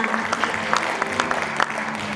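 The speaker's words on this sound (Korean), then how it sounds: "수상자 여러분들에게 모두 기쁜 그런 마음을 다 담아서 축하의 큰 박수 다시 한번 부탁드릴게요." At the second Gapyeong Jaraseom short film festival award ceremony, the audience applauds in a brief, dense burst of clapping with scattered sharper claps, fairly close and without speech.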